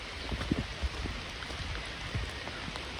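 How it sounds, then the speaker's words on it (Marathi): Rain falls on a fort trail at Karnala fort, a soft, even patter with a few faint drips, fairly quiet and with no voices. "पाऊस वाढला अजून."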